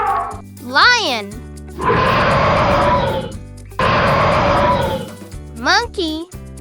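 A lion's roar in a children's animal sounds rhyme, two long rough swells each lasting about a second and a half, set between sung phrases and plausibly made by a voice imitating the animal.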